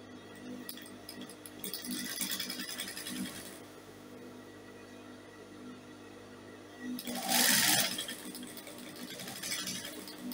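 A sewing machine stitches bias binding onto a dress in quick bursts, with soft whirring runs separated by pauses and a louder rustle of fabric near the end.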